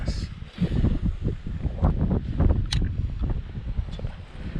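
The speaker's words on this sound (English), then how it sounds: "Especially today, it's a windy day." Gusty wind buffets the microphone outdoors during a fishing outing with a baitcaster reel, a loud low rumble that rises and falls, with faint rustling and clicks on top.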